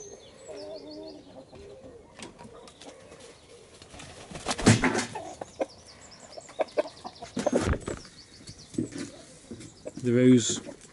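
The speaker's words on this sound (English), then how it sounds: "One of the roosters is coming out" Light Sussex chickens and roosters cluck and coo nearby at a pop-hole opener in the morning, with louder squawking bursts in the second half.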